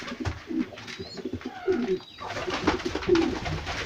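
Several domestic pigeons coo in a loft, repeated low throaty rolling calls overlapping close to the microphone amid light rustling, with no talk.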